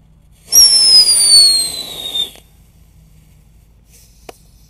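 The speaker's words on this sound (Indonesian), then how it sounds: "Langsung kita nyalakan. Dino bertelur jumbo ini guys." A jumbo 'dino egg' firecracker set off in the ground goes up in a loud, whistling, crackling burst lasting about two seconds, with a small pop afterward.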